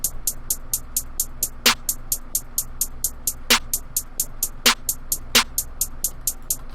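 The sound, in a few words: hi-hat drum sample pattern played in FL Studio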